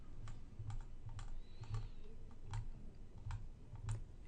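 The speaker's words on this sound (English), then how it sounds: "I'll turn chart display back on using the keyboard shortcut V for vector" A computer keyboard is tapped in a quiet room, about a dozen soft clicky keystrokes in an uneven rhythm, close and faint with no voices.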